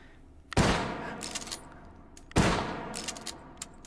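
Two loud, sharp shots from a Winchester 1873 lever-action rifle in the VR game H3VR, about two seconds apart, each followed by metallic clicks and clacks of the lever cycling and casings ejecting.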